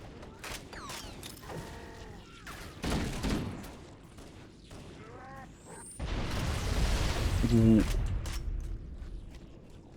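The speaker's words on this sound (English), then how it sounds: "That was one hell of an explosion." A big explosion in the video game Halo erupts as a rumbling, sustained burst amid creaks and clanks of game effects, with a player exclaiming and talking around it.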